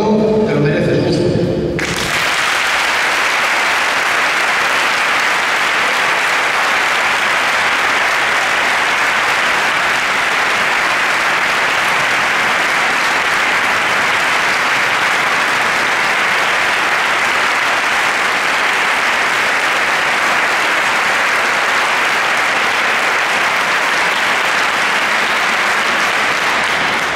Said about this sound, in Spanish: Los colectivos representados hoy aquí solicitamos al público presente un merecido aplauso como gratitud hacia ti